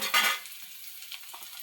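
Onion and cumin sizzle in a frying pan at home, a short burst of frying and stirring up front that fades into a faint, quiet sizzle with a few soft clinks.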